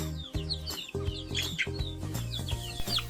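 Chickens with fowl pox and coryza cluck repeatedly and busily up close, with overlapping bird calls and a rhythmic, continuous clucking texture throughout.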